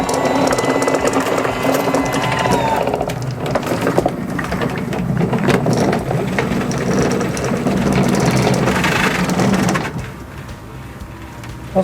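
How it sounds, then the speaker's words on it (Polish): A Lymow One robotic lawn mower climbs a steep garden slope, giving a continuous close mechanical grinding and cutting drone that drops off near the end, with no speech. "To jest maszyna do dużych ogrodów w dużym nachyleniu"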